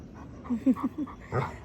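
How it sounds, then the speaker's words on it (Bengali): A dog barks in a quick run of about five short, sharp yelps, fairly close and loud, then ends with one rougher bark, with no talking over it. "দূরে একটা কুকুর দেখে এরকম করছে, এত চেঁচা"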